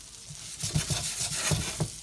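Garlic sizzles in melted Kerrygold butter in a pan, a steady close frying hiss broken by soft stirring scrapes and light pops, with no voices.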